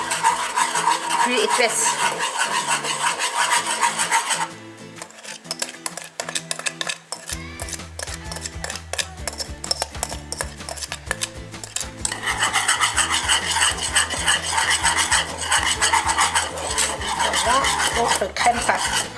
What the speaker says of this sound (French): Nous allons introduire notre mélange comme ça et remuer sans cesse jusqu'à ce que la pâte devienne